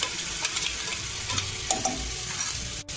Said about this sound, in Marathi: त्याच्यात लाल तिखट टाका, नंतर हळद टाका आणि चांगला मसाला परतून घ्या